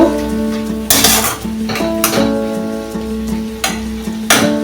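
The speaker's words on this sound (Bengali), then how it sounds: "আমি জিরে গুঁড়োটা দেবো। দিয়ে আরো 2 মিনিট আমি কষে নেব।" Cumin powder and spice masala being sautéed for a chicken dish, with steady sizzling frying broken by several loud bursts of stirring and spoon scrapes against the pan.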